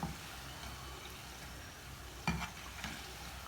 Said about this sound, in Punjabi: ਅਸੀਂ ਹੌਲੀ ਹੌਲੀ ਇਹਨਾਂ ਨੂੰ ਜਿਹੜਾ ਹੈ ਫਰਾਈ ਹੋਣ ਦਿਆਂਗੇ ਪੱਕਣ ਦਿਆਂਗੇ